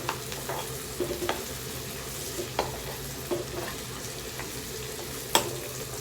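Curry leaves crackle in hot oil while frying for a spicy egg fry, a steady low sizzle broken by sparse sharp pops and stirring clicks, close and fairly quiet, with no talking.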